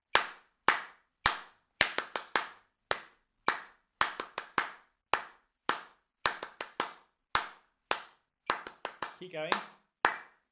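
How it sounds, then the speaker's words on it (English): Hands clap out a rhythm, sharp, dry, close claps in uneven groups with short gaps, a brief spoken voice slipping in near the end. "What I want you to do is to clap this rhythm"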